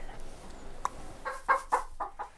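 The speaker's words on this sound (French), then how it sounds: "Là on est dans le poulailler, la petite maison des poules" Several hens cluck nearby in short, irregular bursts, some louder calls rising over a quiet indoor background.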